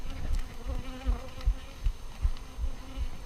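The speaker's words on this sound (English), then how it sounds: "You really want to assess how many bees there are in this hive." Honey bees buzz around an open hive being packed down from two boxes to one, a close, continuous insect hum with soft rhythmic low thumps and no voices.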